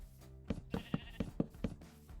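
Repeated short sheep bleats in quick succession, clear and close, with a slightly synthetic game-like quality and no talking, from Minecraft.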